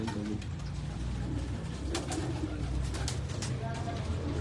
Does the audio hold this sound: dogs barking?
no